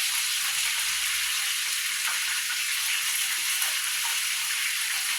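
Steady, dense crackling sizzle of chicken frying in hot oil, loud and close, continuing evenly without any talking.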